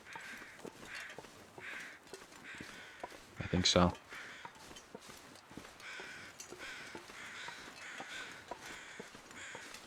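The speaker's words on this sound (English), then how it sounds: "Those crows must be for that deer carcass that is up here." Crows cawing at a distance in the snowy wilderness of the video game The Long Dark, near a deer carcass, with a louder burst mid-scene and someone talking briefly over the ambience.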